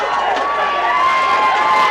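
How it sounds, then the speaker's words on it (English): A high school football crowd on the Malvern side roars and cheers at a night game, a loud sustained wash of voices with a shrill whistle-like tone running through it. "Got the crowd excited on the Malvern side. Malvern crowd is fired up."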